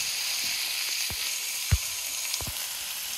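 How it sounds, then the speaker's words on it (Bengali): Bitter gourd (ucche) frying in a pan gives a steady close sizzle, broken by a few soft knocks of stirring against the pan, with no talk. "এই যে উস্তে ভাজি করছি"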